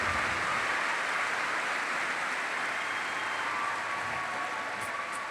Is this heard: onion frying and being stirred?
no